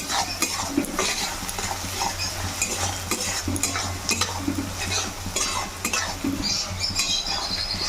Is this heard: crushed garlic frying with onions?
yes